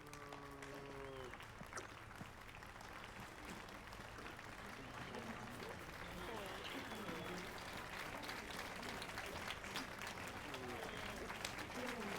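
Applause from a crowd in The Witcher 3, a steady wash of clapping that swells slightly and continues throughout, with voices and a faint melodic tone early on underneath.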